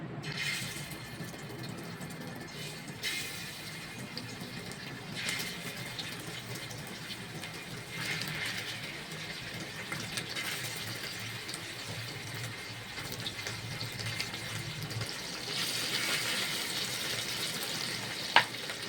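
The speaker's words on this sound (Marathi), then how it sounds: "थोडं तेल गरम झालंय त्याच्यात बांगडा सोडूया" Bangda (mackerel) fish frying in hot oil in a pan, a steady close hiss and crackle running throughout with no talk.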